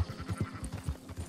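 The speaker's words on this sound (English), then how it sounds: "Why John decide he wants to round up sheep." Sheep bleat in Red Dead Redemption 2 as a flock is rounded up, a quick string of short wavering calls overlapping close by, with no voices present.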